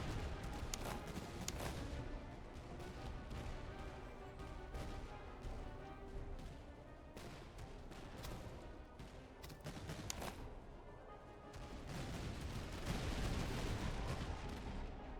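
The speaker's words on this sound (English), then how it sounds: "We're gonna go canister shot against those German Fusiliers that are on our front." Canister shot volleys in the Napoleonic-era strategy game Master of Command, British campaign: continuous rumbling artillery and musket fire with repeated sharp cracks throughout, fairly dense and steady, no talking.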